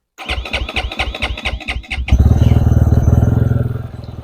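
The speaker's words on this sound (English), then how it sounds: "That fired right up." A motorcycle engine with its choke on and throttle primed cranks in a quick rhythmic series of pulses, then fires and catches, settling into a loud, steady, fast-pulsing idle close by.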